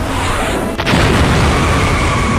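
A sudden boom at a stick of dynamite's explosion in the action film Mad Max: Fury Road, a single loud blast rising out of a dense, roaring soundtrack that stays loud and busy afterward.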